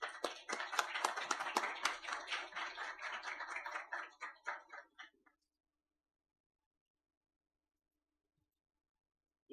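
Conference audience at SciPyLA 2019 claps to welcome a speaker, a dense burst of hand claps that thins out and stops after about five seconds, leaving near silence.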